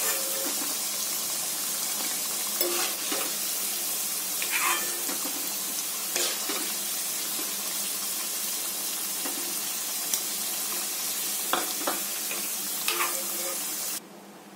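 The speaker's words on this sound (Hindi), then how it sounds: "थोड़ा बहुत बाकी है, तो इसको मैं अच्छे से फ्राई कर लूंगी" Pieces of suran (elephant foot yam) frying in oil make a steady, soft sizzle with occasional crackles and spatters. The sizzle drops away suddenly just before the end.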